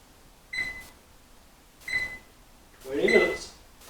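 An oven timer is set to 20 minutes, giving three short electronic beeps a second or so apart, the last one partly mixed with a brief voice.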